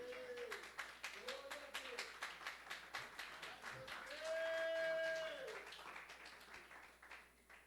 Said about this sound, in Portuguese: aplaudindo a Jesus.